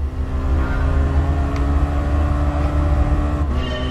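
A race car in Gran Turismo Sport at Northern Isle Speedway under full throttle, a steady loud engine drone that holds close and even with a slight rise in pitch.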